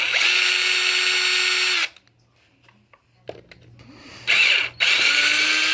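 A power drill whirs loudly in two bursts removing screws from the spur gear covers of a Traxxas X-Maxx RC truck, separated by a quiet pause with small clicks and handling noises, the motor running steadily each time.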